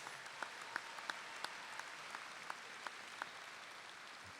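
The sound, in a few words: applause for the counselors at graduation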